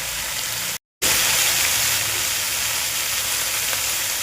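Red chilli powder, turmeric and other spices sauté loudly in a hot pan for a quick dangar bhaji, a dense continuous sizzle broken only by a brief drop to silence early on, with no one speaking.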